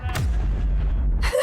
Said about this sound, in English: The fucking explosion.